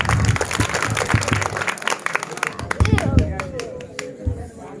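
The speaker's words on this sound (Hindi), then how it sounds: "जोरदार ताली दी गाओ" Audience applause at a Sambalpuri poetry recital, a rough burst of clapping mixed with crowd noise and voices, thinning into scattered claps as talk takes over.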